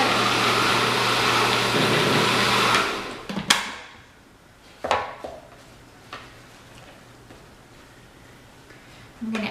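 A food processor whirs loudly and steadily as it spins raw vegan hamburger patty mix, then stops after about three seconds, followed by a few sharp clatters and knocks of the lid and bowl.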